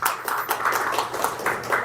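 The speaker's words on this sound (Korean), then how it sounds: "인사해 주시고 큰 박수 부탁합니다" Audience applause at a Korean seminar on North Korean defectors, a steady patter of many hands clapping throughout, moderately loud and close, with no talk over it.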